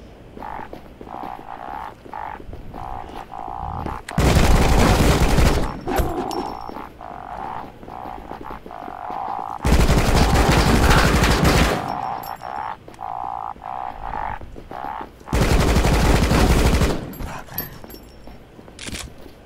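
Gunfire in the video game Rocketbirds: Hardboiled Chicken: three loud bursts of rapid automatic fire, each lasting a couple of seconds, over a steady game background of croaking and chirping effects.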